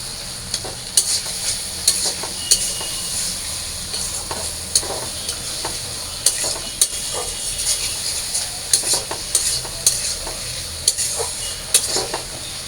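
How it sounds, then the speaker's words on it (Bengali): Potatoes sauté in a pan with onions, ginger, garlic, cumin, chili and turmeric, giving a continuous close sizzle broken by regular scraping and stirring strokes of a spatula against the pan. "তো ভালো করে একটু কষায় নেই আলুটা"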